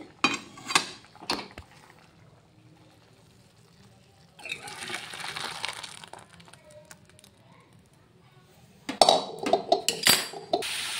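A pot of boiled dal lifted off a home kitchen stove, with metallic clinks and scrapes of cookware in short bursts separated by quieter stretches.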